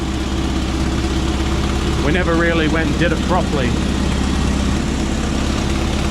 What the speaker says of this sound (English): Sounds alright. She's got an exhaust leak.